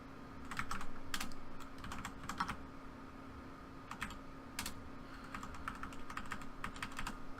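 Quiet clicking on a computer keyboard while coding, with bursts of quick keystrokes separated by short pauses, close and soft, with no speech.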